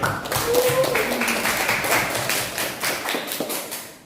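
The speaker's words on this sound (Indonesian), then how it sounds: "Ya, tepuk tangan untuk teman kalian." A classroom of students claps for a classmate, a dense burst of many hands that starts loud, then thins out and fades over several seconds, close by.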